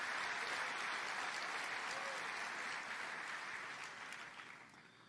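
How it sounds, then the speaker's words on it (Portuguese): A church congregation applauds during an evening sermon, with sustained, dense clapping from a large crowd that holds steady and then fades toward the end. "Você consegue aplaudir ao Senhor pela sua palavra esta noite?"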